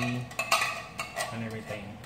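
Whole beans with their gravy tipped into a soup pot, giving soft clinks and scrapes of a utensil against the pot, a few close, quiet knocks in quick succession.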